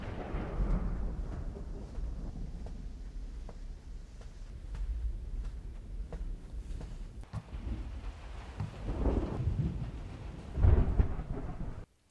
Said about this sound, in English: It's such an ominous storm right now.